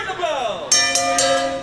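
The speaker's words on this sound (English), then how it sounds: "And the bell has rung," A wrestling match bell rings three sharp metallic strikes in quick succession, loud and near, over the tail of a voice talking.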